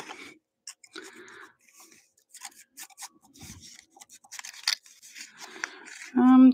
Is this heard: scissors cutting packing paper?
yes